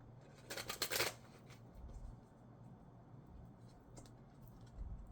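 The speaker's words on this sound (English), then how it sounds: "So let me get some cards from the Osho Zen Tarot." Osho Zen Tarot cards are shuffled by hand: a quick, soft riffle of crisp card flutter early on, then faint shifting and a last light shuffle in a quiet room.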